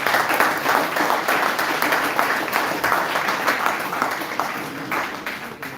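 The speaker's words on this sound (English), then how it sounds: "So let's please give her a huge round of applause." An audience applauds Lynn at an evening faculty event, a dense, continuous wash of many hands clapping that stays loud and even throughout, with no voices rising above it.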